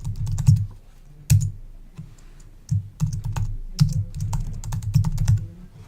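Rapid bursts of typing on a computer keyboard, crisp clustered key clicks with short pauses between words, close and clear without any talking.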